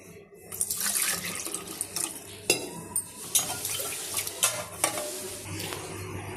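Water is poured into a cooking pot for making rice-flour fryums, about six glasses' worth: a faint, running splash with a few louder clunks and sloshes from the vessel, and no talk.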